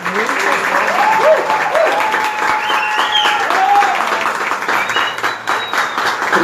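Audience applause and cheering for a singer at a left-wing political event, with dense steady clapping throughout and a whistle and shouts rising over the crowd.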